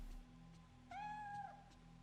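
A cat meows once, a short clear call, in a quiet indoor scene from the horror video game Fatal Frame 3: The Tormented, with faint background hum.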